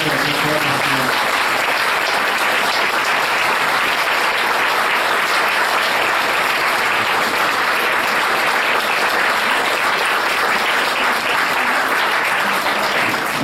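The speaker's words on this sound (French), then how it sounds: "on peut l'applaudir" A local history society's lecture audience in Saint-Émilion applauds steadily, a dense, even wash of clapping that holds at constant loudness from start to finish with no talk over it.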